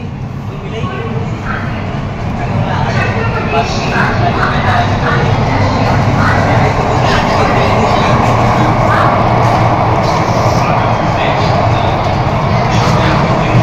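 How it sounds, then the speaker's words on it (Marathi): Mumbai Aqua Line underground metro train running through a tunnel, a steady loud rumble and roar that swells slightly after the start and holds, with a voice talking over it. "भुयारी रेल्वे आहे, बाहेर काही दिसत नाही."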